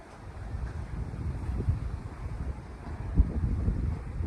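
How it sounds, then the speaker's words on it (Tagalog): Strong wind roars and buffets the microphone in steady low gusts while a kite is flown, with no voices. "Di kaya sa malakas na hangin Chok."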